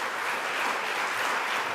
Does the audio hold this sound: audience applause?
yes